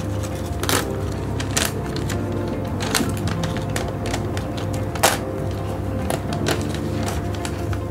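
A perforated sheet of printed visiting cards being pulled apart by hand, giving repeated short crisp tearing and snapping bursts over a steady low machine-like hum, with no talking.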